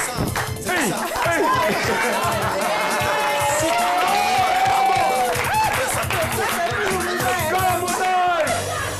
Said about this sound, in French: Maximum d'ovation, s'il vous plaît, pour Bess, le maître du blanc